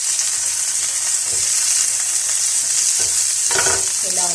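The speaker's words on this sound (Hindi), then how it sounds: "वेजिटेबल ऑयल मैंने शामिल किया है और इसके अंदर मैं ये तमाम वेजिटेबल्स डाल दूँगी" Vegetables fry in vegetable oil in a grill pan, giving a constant loud bright sizzle broken by a few scraping stirs near the end.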